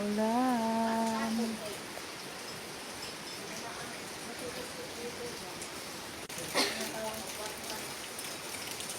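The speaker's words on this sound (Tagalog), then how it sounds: "Kaya lang maulan-ulan ngayon." Steady rain falls and patters on surfaces outdoors, a continuous close hiss; a voice speaks briefly at the start, and a sharper knock or splash rises near the end.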